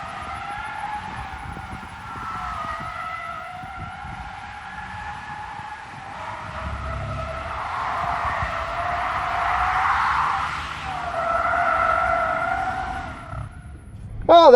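Tesla Cybertruck sliding in Baja Mode on loose ground, with sustained wavering tire squeal and skidding hiss over a low rumble, growing louder toward the end.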